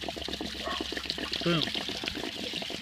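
Water pours steadily from an opened water heater drain during winterization, a continuous broadband rush with sloshing, while a person talks over it and briefly exclaims.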